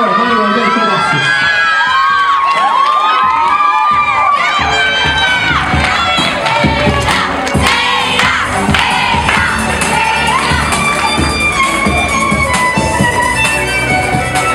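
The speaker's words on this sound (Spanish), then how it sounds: "recibamos a la festejada de esta noche con un fuerte aplauso" Applause and cheering welcome the birthday girl at a nighttime party: a loud, dense crowd of whooping voices, shouting children and clapping runs continuously through the whole stretch.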